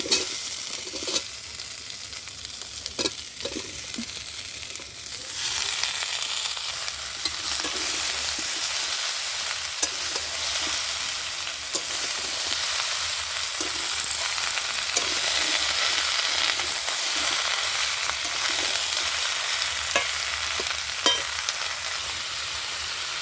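Kohlrabi, radish and cabbage stir-fried in a pan for a winter vegetable curry, a steady loud sizzle with scraping stirs that swells after a quieter opening and carries on with no talk.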